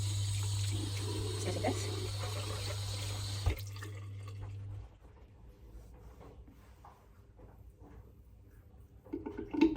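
A face is rinsed under running tap water with a steady flow that stops partway through, followed by faint drips and small movements. A voice speaks briefly.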